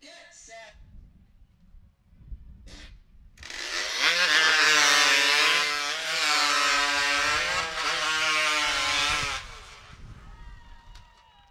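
Chainsaw engines at a Stihl Timbersports professional qualifier roar to life after a short pull, then hold a loud, steady high-revving whine for several seconds before cutting off.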